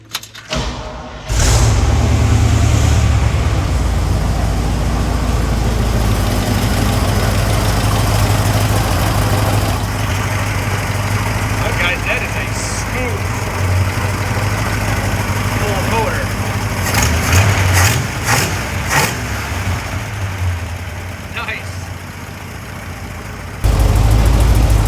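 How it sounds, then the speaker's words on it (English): An old 1969 Chevy C40 truck engine, just tuned up, idles loudly and steadily up close for over twenty seconds, a deep rumble with some rattling and short louder spells, while voices talk over it. "that is one good running old truck"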